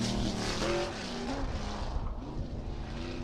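Sprint cars of a New England tour race at New Hampshire Motor Speedway with a loud, steady engine roar. The pitch rises and falls as the cars pass, with no talk over it.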